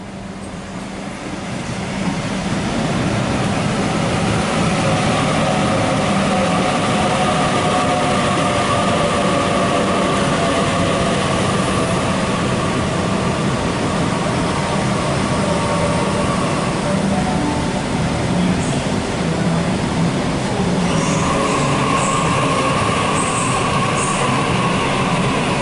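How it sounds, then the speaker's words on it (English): A Sydney Trains Schofield service, set A74, rolls into platform 3 at Parramatta station, a loud sustained rumble of wheels and carriages with faint squeals building and holding for the whole stretch. "We have a Schofield service arriving on platform number 3."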